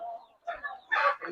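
Roosters and other chickens in a gamecock conditioning area at feeding time, with several nearby clucks and short calls in quick succession, loud and close.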